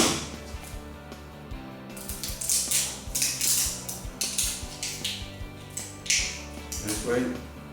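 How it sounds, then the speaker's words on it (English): A utility cutter scrapes and slices plastic off the tip of a windsurfing sail batten, giving repeated close, crisp scraping and clicking strokes in an uneven rhythm, with someone talking throughout. "So we just cut it away with a cutter like this."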